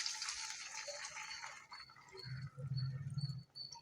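Water poured into a pan of frying garlic for garlic gravy: a bright sizzling hiss at first, then a low, bubbling gush of liquid splashing in close up.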